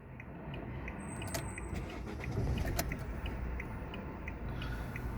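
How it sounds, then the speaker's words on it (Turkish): A Fiat Egea with an undiagnosed fault idles in neutral, a steady, low engine rumble throughout, with a faint, regular ticking riding on top. "Rolanti de çalışıyor şu an."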